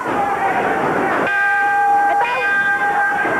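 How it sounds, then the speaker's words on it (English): A wrestling ring bell rings out during a Memphis wrestling broadcast, sustained metallic tones sounding over crowd noise and people talking. "Ring the bell, ring the bell."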